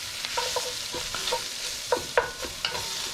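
Tomato paste sautéing in a pan for an Italian Sunday tomato sauce, with a soft sizzle and a series of short spoon scrapes and taps on the pan at irregular intervals.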